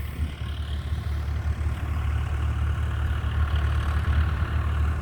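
A Dharti tractor engine runs steadily, a loud, close, deep rumbling drone with a faint rhythmic throb that holds an even level throughout, with no voices.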